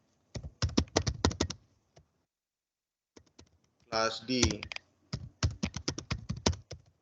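Bursts of rapid clicking keystrokes on a computer keyboard, close and crisp, typed in quick clusters separated by short pauses, with someone speaking briefly between them.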